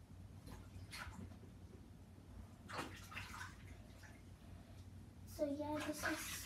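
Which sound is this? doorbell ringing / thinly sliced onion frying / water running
water running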